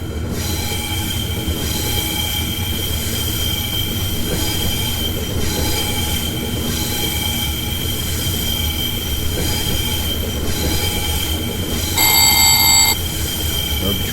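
A BB26000 electric locomotive hauling an international night train in Train Simulator, with a steady rumbling roll and wheel noise, constant high-pitched tones above, and a short ringing bell-like alert near the end.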